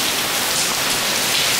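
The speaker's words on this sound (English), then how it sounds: "it's raining outside" Steady rain falls outside at a Punta Cana resort, a dense even hiss of drops on surfaces filling the whole moment with no voices.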